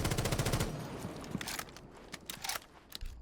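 A gun in Rainbow Six Siege fires in fast automatic bursts, a rapid close rattle followed by scattered single shots and shell clinks.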